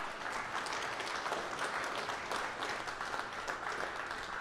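An esports championship audience claps steadily for the winning team, a dense sustained wash of applause with no talk over it.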